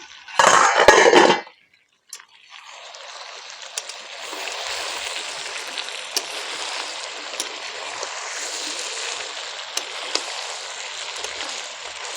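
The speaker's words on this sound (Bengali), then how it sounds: "আবার ঢেকে দেবো এই ঢাকনাটা খুলে দেখে নিই" A metal lid is lifted off a cooking pot of country chicken curry with a short, bright clatter, followed by a soft, steady hiss of the simmering pot that continues alone.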